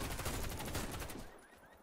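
Mateba revolver firing in the shooter game Warface, a dense burst of loud, close gunshots packed together before tailing off into quieter background.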